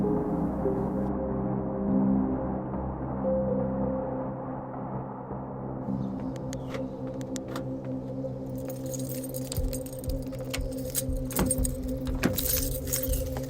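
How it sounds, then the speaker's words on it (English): A set of keys jangles and clinks in bursts, close by, from about halfway through. Underneath, a low steady hum carries on throughout. "I'll get my keys."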